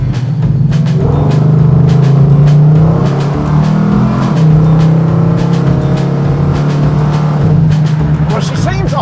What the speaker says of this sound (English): she makes a sweet sound at full throttle